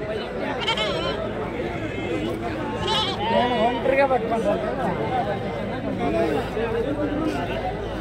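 Sheep and horned rams bleat over and over amid a busy crowd at a weekly livestock market, their wavering calls mixed with constant nearby chatter and people talking.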